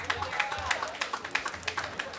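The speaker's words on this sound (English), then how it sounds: "Give her a round of applause." Audience applause at a school Parents' Day gathering, a brief spell of scattered, fairly faint clapping from a seated crowd.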